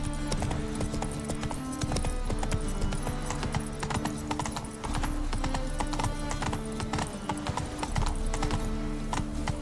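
Geralt's horse Roach galloping in The Witcher 3, a fast, steady drumming of hooves with an occasional whinny, set against loud in-game music.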